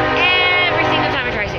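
Passing train, a loud sustained horn-like drone with rumbling underneath, continuous and close throughout.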